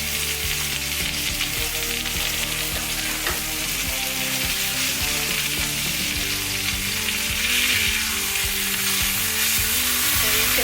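A classic beef pot roast sears in a hot pan, giving a steady, dense sizzle and crackle that runs unbroken and fairly close throughout, with no talking.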